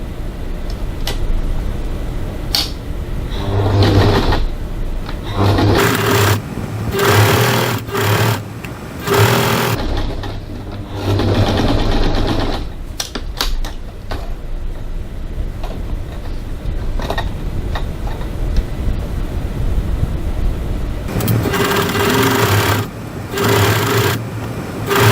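A sewing machine stitches across the bottom of a crossbody bag in several loud, close bursts of rapid mechanical whirring, separated by short pauses and handling noises.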